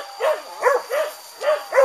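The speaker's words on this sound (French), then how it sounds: "Andy a lâché son chien qui courageusement revient" A hunting dog's rapid barks and yelps during a pig hunt in Sumatra, five short bursts spaced in an uneven rhythm, fairly close and clear.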